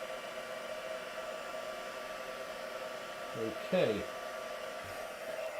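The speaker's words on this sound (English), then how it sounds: "Just going in, heat embossing this now." A heat gun blows steadily while heat embossing a ladybird design in a live craft demo, a constant airy hiss running through the whole stretch with a brief louder burst near the end and a short spoken word over it.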